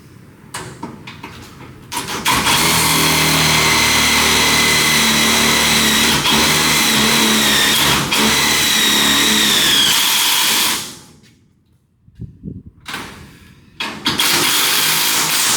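A power drill bores during a 12-foot garage door installation, running as a loud sustained whir for about eight seconds. It stops, gives a few short bursts, then starts up again, close and without talk.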